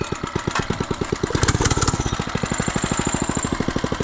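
Budget mini bike's small engine running close and loud, a rapid steady putter that quickens briefly as the throttle is worked, then settles back into an even chug.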